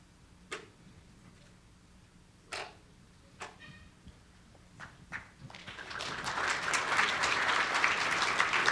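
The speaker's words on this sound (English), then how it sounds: "So they all deserve a big round of applause" An audience at a cybersecurity competition prize ceremony breaks into applause, rising from scattered isolated claps and taps into a steady, full round of clapping that builds toward the end.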